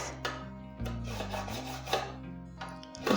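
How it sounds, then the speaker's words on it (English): A knife scrapes grated lemon rind off a metal grater for a cherry and lemon Madeira-style cake, giving a close, dry rasping rub that repeats in short strokes over steady background music. "Just run a knife along this grater and all this lemon will come out"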